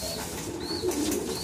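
Pigeons cooing in soft, repeated calls close by at a Barangay San Antonio loft after rain, with a steady low murmur running throughout.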